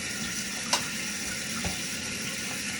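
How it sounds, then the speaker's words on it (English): Water rushes steadily as the supply is opened to a Project Source toilet with a 3-inch flush valve and the tank fills, a constant hiss with one or two small knocks. "we're going to go ahead and turn the water on to the toilet."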